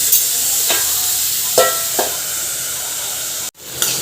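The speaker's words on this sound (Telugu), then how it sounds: "ఇదే ఆయిల్లో టమాటాలు కూడా వేసి" Tomatoes sizzle and hiss in hot oil in a pan while being stirred, a steady close frying noise with a few sharp scraping stirs and a brief dropout near the end.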